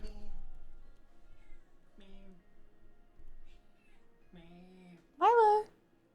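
A pet cat named Milo gives one loud, rising meow near the end, after a stretch of quieter background talking and low vocal sounds.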